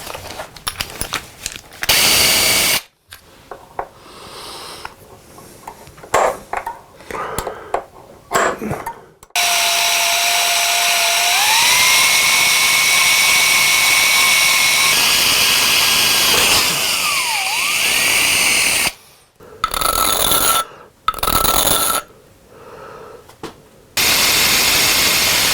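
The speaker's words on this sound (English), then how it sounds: "So 1/4 inch hole through brass." A drill boring a quarter-inch hole through brass for an infill plane, a steady loud whine with rising pitch shifts, set between bursts of clattering workshop noise and short pauses.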